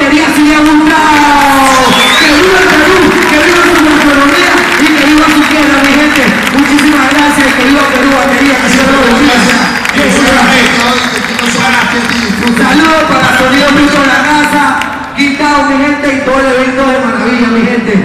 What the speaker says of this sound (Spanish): Un aplauso, batería